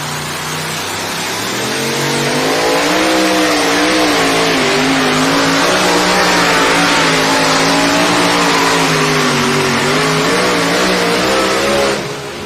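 A tractor-pulling vehicle roars at full throttle while dragging a sled down the track at an evening pulling event in Rock Valley, Iowa, its engine loud, close and sustained for about ten seconds with rising and wavering pitch.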